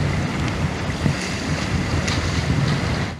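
Broadband wash of ocean waves and wind around a boat on the warm Caribbean Sea a few miles off Puerto Rico, steady and close with buffeting wind noise on the microphone and no voices.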